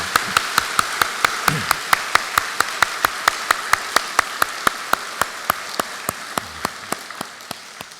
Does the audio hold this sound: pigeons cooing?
no